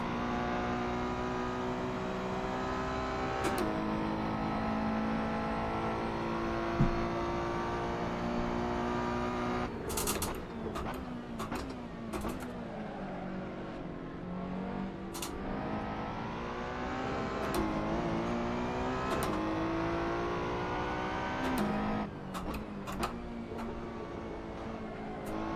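A Ferrari race car in an esports racing game at Monza howls through rising and falling gear changes, with sharp shifts and a passing car, loud and continuous throughout.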